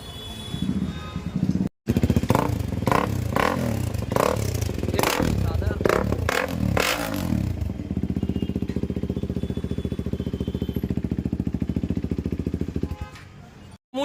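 KTM Duke 390 with an Akrapovic long-can exhaust revs in a series of loud, sharp throttle blips up close, then drops to a steady rumbling idle, with brief cut-outs in the sound.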